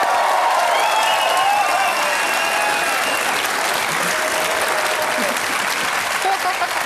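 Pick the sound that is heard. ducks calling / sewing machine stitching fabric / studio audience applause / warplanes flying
studio audience applause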